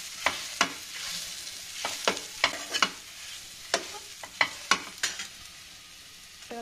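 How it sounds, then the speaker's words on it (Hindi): Mashed potatoes for aloo chap being stirred and fried in a pan, a spoon scraping and knocking against the metal in sharp irregular strokes over a soft steady sizzle, close and alone. "देखिए अब इसमें हम आलू डाल देंगे मैश किया हुआ।"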